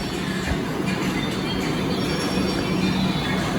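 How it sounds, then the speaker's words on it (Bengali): A Kolkata metro train pulls into the station with a loud, continuous rumble and high, sustained wheel squeal, with faint clicking of the wheels over the track. "মেট্রো ঢুকেছে"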